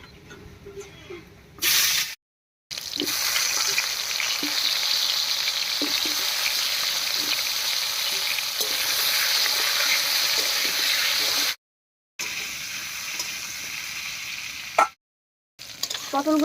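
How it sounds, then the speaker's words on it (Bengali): Pointed gourd (potol) frying in hot oil in a pan, a loud continuous close sizzle broken by a few brief silent gaps. "এই তেলে পটলটাও ভেজে নেব"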